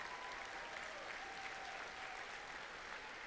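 An audience at a FIRST robotics state championship applauds the pit admin supervisor with a steady, even clatter of clapping that stays faint and distant throughout.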